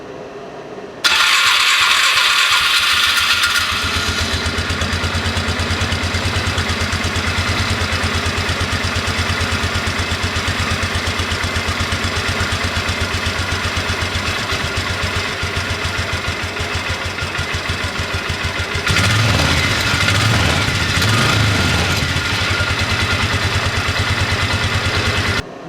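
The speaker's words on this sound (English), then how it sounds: "let's fire this up, see what happens" A Polaris Ranger 500 utility vehicle engine cranks and catches after a carburetor cleaning, then idles steadily and loudly up close, with a brief rev-up in its sound near the end.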